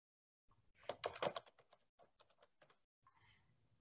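Keys on a computer keyboard tapped out in a quick burst, then a few scattered clicks and a short final flurry, close and quiet while a chat reply is typed with no one speaking.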